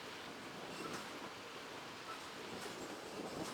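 A train rumbles steadily along the railway climbing toward the Klondike pass, a continuous close clatter of wheels on track with faint clickety-clack and occasional light squeals.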